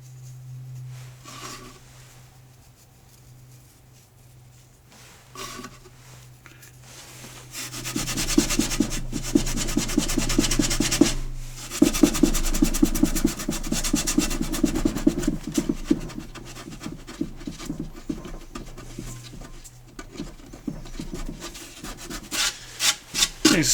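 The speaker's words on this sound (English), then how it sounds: "So now if I can sand that without burning through the very thin veneer, it'll look pretty nice." Steady abrasive sanding across thin oak plywood veneer on a storage cabinet, starting as a softer rubbing and then growing into a louder, continuous scratchy hiss with a rhythmic back-and-forth texture.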